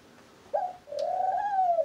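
A pet bird gives a short coo and then a longer, drawn-out cooing call, close and clear over a quiet room, with no talking.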